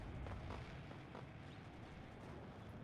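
Tank and D44 cannon fire in the WARNO video game, a run of distant, muffled booms and bursts rumbling through a low battle din with no talk.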